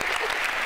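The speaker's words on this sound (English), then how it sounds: "Can you give yourselves a round of applause, please?" A university audience at Harvard applauds visiting Marjory Stoneman Douglas students, a brief, dense burst of many hands clapping at once.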